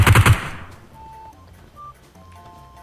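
A short, loud automatic burst of gunfire in the mobile battle-royale game PUBG Mobile opens the moment and then cuts off, leaving faint game ambience with a few soft beeps.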